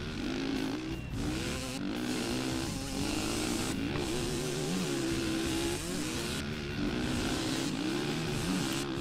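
A video-game ATV engine from ATV Offroad Fury 2 drones steadily with a buzzing, wavering pitch that rises and dips as the throttle changes, loud and continuous throughout.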